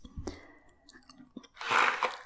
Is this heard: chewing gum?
yes